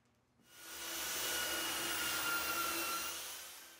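A belt sander starts up and runs in a steady, close whooshing drone, smoothing the edges of a wooden centerboard.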